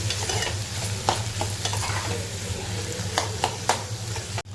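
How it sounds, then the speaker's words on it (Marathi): Chopped tomato sautéing in a pan, a steady close sizzle broken by several sharp scraping clicks of a spatula stirring it, with a low hum underneath throughout. "त्याच्यावर आपण जो कापलेला आहे टॅमेटो आहे तो टाकून घेणार आहे त्यालाही असं आपण परतून घेऊया"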